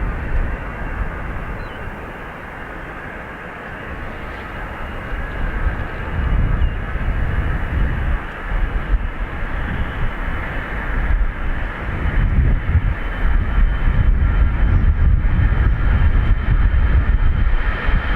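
A jet airliner lands at Dublin Airport, its broad engine roar building steadily and staying loud and continuous with a low rumble throughout, with no voices.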